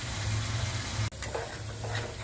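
Water mixed with ground spices and onion paste is poured into a hot pan, with a steady close sizzle that breaks off for an instant and then resumes with softer bubbling hiss.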